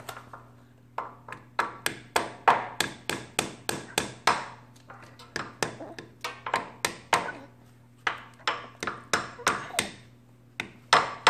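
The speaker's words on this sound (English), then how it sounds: "Just a hammer now." A hammer taps a Grasshopper mower's main seal into the crankcase in steady bursts of quick, ringing metallic strikes, close and fairly loud, with short pauses between runs.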